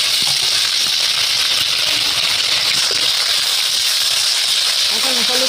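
Cumin seeds and ginger paste fry in a hot pan, giving a steady, loud hiss of sizzling oil that runs unbroken throughout, with faint scattered crackles underneath.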